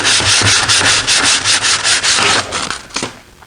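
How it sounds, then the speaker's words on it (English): Loud, continuous rough rubbing of a hand across coarse unsanded oak, scratchy strokes repeating steadily before tapering off at the end. "When you rub your hands across wood like that"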